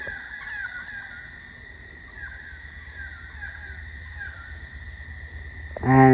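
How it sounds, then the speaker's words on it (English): Birds call from up in a tree outdoors, faint repeated chirps and clucking notes over a steady background drone, ending with a sudden louder, closer burst. "there are some birds that are talking from up that tree"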